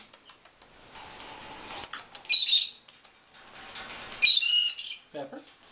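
Two Amazon parrots kept indoors among friends give sharp squawks and chirps in two loud bursts, with wing flaps, soft clicks and scattered taps in between.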